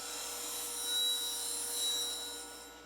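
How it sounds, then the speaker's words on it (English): A hollowing cutter is sharpened on a radius-edged CBN grinding wheel, giving a steady high whine with a faint hiss of metal contact that swells twice, close and continuous, with no talking. "I can sharpen it this way, because you still have the same face of the wheel."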